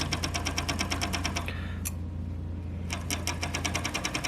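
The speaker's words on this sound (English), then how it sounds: "fabric underneath the machine, and you're going to start sewing" Cover stitch sewing machine running steadily while hemming fabric, a rapid mechanical chatter with a low motor hum, pausing briefly in the middle before resuming at close range.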